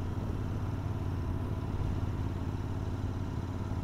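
A Continental GT motorcycle runs steadily in sixth gear at about 2000 RPM, a continuous low, even engine drone with road and wind rush heard from the riding position, with no speech.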